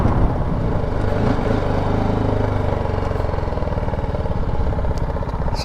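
A motorcycle engine runs steadily close by on a ride near Chabahar, Iran, a continuous low throbbing drone with even pulsing and no voices.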